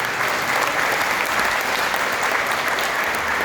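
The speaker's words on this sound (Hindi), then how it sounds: "एक जोरदार तालियां बजा सकते हैं।" Dense, steady applause from a large audience fills the room at a Rising Star Events gathering at the Jaypee Palace in Agra, sustained and loud throughout with no break.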